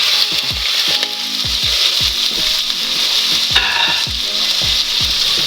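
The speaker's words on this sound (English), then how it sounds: "right over here we got our onions already sizzling." Onions sizzle in butter in a hot pan, a loud steady crackling hiss with repeated scraping stirs at close range.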